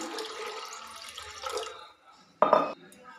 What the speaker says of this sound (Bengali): আমি ডালগুলো সব ঢেলে দিলাম পরিমাণ মতো একটু জল দিলাম